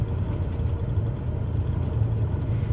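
A small airplane rolls out along the runway center line after a power-off 180 landing, giving a steady low engine drone and rumble that holds without a break, moderately loud and alone.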